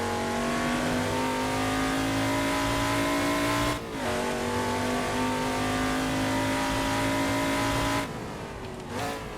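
An XA Ford Falcon lapping the Bathurst circuit, heard from inside: a loud, steady engine drone at high revs, broken by two quick gear changes where the pitch drops and climbs again.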